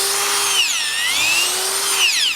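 A powered auger bores into clay soil to install a Sentek Drill & Drop moisture probe, its loud motor whine dipping and recovering in pitch twice as the bit loads, with no talking.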